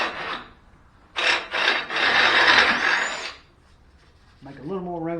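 A bolt hole in a wooden part being opened up with a hand tool, two short rasping strokes then a long loud grinding rub, followed by a brief voice at the end.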